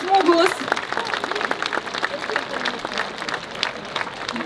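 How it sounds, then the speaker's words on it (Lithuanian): An audience at a cultural event in Onuškis, Lithuania, applauds to welcome the chief conductor, a dense, sustained patter of many hands clapping with a voice speaking briefly at the start. "Pasitikim plojimais."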